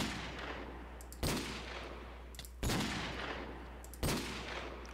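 Gunfire from a modded gun in a Minecraft survival game fighting skeletons: three loud, evenly spaced shots about a second and a half apart, each with a short decay over a steady droning background.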